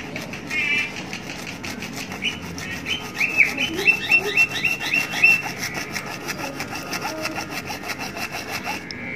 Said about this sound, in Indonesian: setelah itu kita gergaji dulu